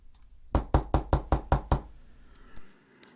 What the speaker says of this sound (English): The security guard knocked on the door and came in.